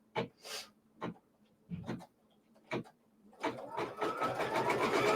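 A sewing machine stitches a quilt block, opening with several short bursts separated by pauses, then breaking into a steady, continuous whirring run at close range.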